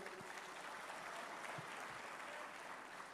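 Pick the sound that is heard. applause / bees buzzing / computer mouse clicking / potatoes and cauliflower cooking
applause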